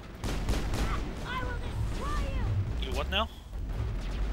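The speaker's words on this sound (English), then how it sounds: "Apparently there's someone blasting away over here." Gunfire crackles in the Mass Effect video game as a quick, muffled run of shots rattles low in the mix beneath people talking.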